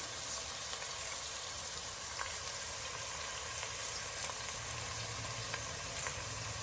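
Ginger pieces and curry leaves frying in oil in a pan for corn upma, a steady, even sizzle and crackle throughout with faint stirring, no voices.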